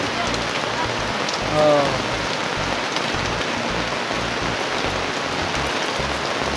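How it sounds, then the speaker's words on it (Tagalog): Heavy rain pours down steadily on a rural farm-to-market road in Mulanay, Quezon, a dense unbroken hiss throughout, with a brief exclamation from a man. "Lakas ng ulan, oh."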